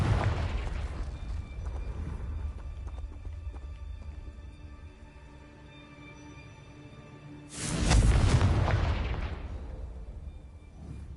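A Confringo blasting spell in Hogwarts Legacy goes off as a loud, deep explosive boom that surges partway through, over a steady rumbling background that slowly decays.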